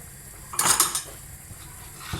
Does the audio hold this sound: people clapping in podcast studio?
no